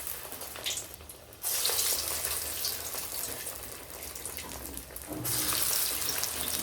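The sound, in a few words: alasande (black-eyed pea) vadas frying in hot oil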